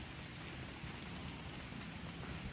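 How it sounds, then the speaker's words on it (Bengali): Light drizzle falling outdoors near a school, a large pond and a railway line under a cloudy sky, a soft, faint, even hiss of rain with no voices. "ঝিরি ঝিরি বৃষ্টি পড়তেছে,"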